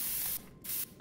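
Pepper spray fired in a tactical early-access video game, two loud hissing bursts of spray in quick succession with a short gap between them.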